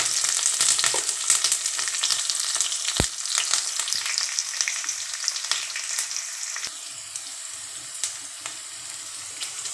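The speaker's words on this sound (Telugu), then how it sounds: "పోపు గింజలో ఫ్రై అయ్యి ఉల్లిపాయలు వేసా" Onions and curry leaves fry with tempering seeds in hot oil, a close, steady crackling sizzle broken by frequent sharp pops, with a brief clink partway through and no talking.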